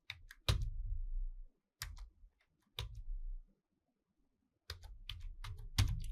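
Bursts of typing on a computer keyboard while entering text into a Figma design, with clusters of rapid key clicks separated by short silent pauses, close and clear with no speech.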